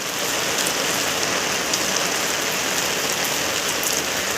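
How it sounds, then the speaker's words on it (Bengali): Steady night rain falls in Bangalore, a dense, even hiss of drops hitting surfaces that holds at the same level throughout, with no voices. "বৃষ্টি দেখে দেখে সারা রাত হয়তো বা কাটিয়ে নেব"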